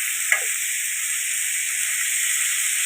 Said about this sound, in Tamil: இதையும் வதக்கிக்கலாங்க.